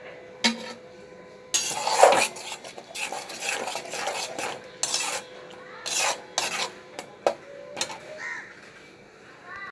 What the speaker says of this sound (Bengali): কিছুটা সর্ষের তেল দিয়ে ভালো করে একটু মেখে নেব।